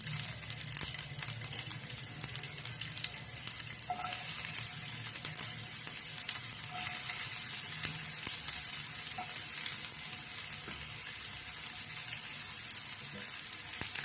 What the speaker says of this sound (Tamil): வெங்காயம் போட்டு நல்லா வதக்கிடுவோம்